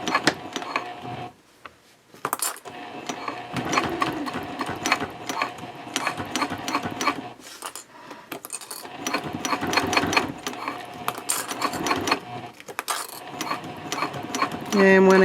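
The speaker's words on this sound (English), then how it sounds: "I am going to back stitch a few times over the top of the card slot" A sewing machine back stitches through Cordura fabric on a trifold wallet, with steady rapid mechanical runs broken by brief pauses as the stitching direction reverses, close and clear.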